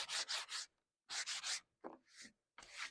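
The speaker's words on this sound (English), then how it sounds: "I'm going to sand just a tiny bit." A wooden sign being sanded lightly by hand: quiet, raspy rubbing strokes in quick groups of three, with short pauses between the groups and no speech.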